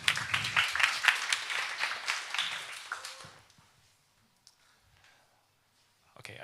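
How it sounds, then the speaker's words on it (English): A live audience claps for a startup about to present at a deep tech accelerator event, dense applause for about three seconds that fades out, followed by near silence and a faint stir at the end. "So, round of applause for the first startup to present today."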